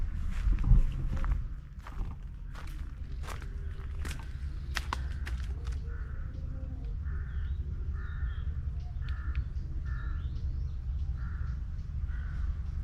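Repeated bird calls ring out at a distance over rice fields on a Thai farm in a steady, evenly spaced series, over low rumbling wind and a few close clicks and thumps.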